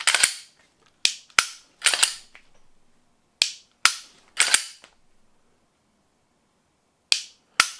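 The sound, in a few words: Glock pistol trigger dry-fire clicks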